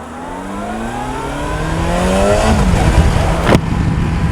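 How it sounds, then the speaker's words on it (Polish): A Yamaha FZ6 Fazer 600 cc sport-touring motorcycle of nearly 100 hp revs close by, its engine note climbing steadily in pitch and loudness before holding at a high, even drone, with a brief sharp click near the end. "przetestujemy ten półturystyczny motocykl nazywający się Yamaha Fazer"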